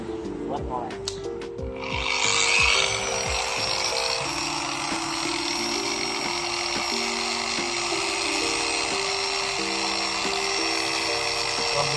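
A Shinemate EX 605 dual action polisher with a Black Diamond pad spins up after a couple of seconds and keeps a steady, loud whirring hum throughout, with a person talking over it.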